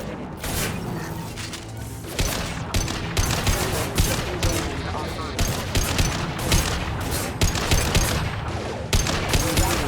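Rapid gunfire from the Mass Effect 2 video game, dense volleys of sharp shots and thuds in quick succession, loud and continuous, with brief voices mixed in.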